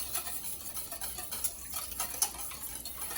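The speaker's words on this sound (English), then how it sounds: "Whisk your eggs together in your mixing bowl." A whisk beating eggs in a mixing bowl, producing quiet, quick rhythmic ticking and clinking against the bowl with light sloshing, steady throughout with no speech.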